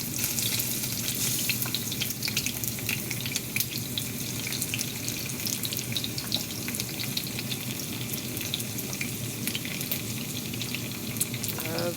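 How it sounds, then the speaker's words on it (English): Onion rings cook in an air fryer with a steady, even hiss and scattered faint crackles that run unbroken throughout, with no voices. "I also put some in the air fryer, which is what you hear, to see how the air fryer would cook them."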